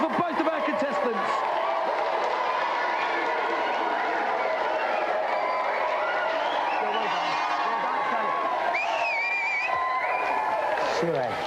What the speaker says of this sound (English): Let's have a big round of applause for both of our contestants